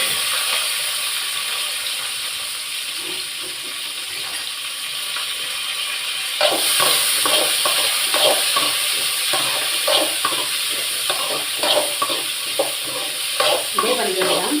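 Mustard seeds and crushed garlic fry in hot oil, giving a steady close sizzle that grows louder and crackles with quick popping bursts after the garlic goes in, with no talking.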